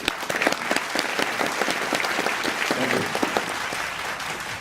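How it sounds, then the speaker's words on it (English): An audience claps to welcome a speaker to a smart cities and AI session, giving steady, moderately loud applause throughout. "give SK a welcome hand of applause."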